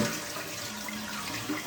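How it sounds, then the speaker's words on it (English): A toilet flushes after its DuoFlush valve has been swapped for a regular valve, giving a continuous broadband rush of draining water, close and steady throughout with no talking. "there we go, flushed."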